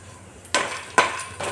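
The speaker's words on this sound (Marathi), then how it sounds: "तर हे मखाने आहेत ना, आपण छान भाजून घेऊ" Fox nuts (makhana) tossed in a pan in a home kitchen, three sharp rattling clatters a split second apart, close and fairly crisp over a quiet background.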